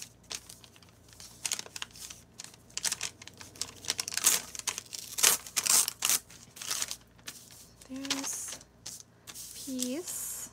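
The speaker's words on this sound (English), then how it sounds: "So we're just gonna do some ripping" Paper being ripped and crinkled by hand for junk journaling, a series of close, bursty tearing and rustling sounds with occasional soft handling noises, accompanied by faint talk.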